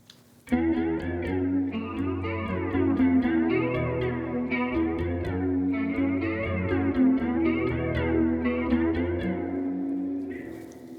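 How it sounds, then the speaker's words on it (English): Electric guitar chords shimmer and waver through a chorus effect pedal, played steadily with a lush, slightly detuned swirl before ringing out. "our next effect pedal is chorus"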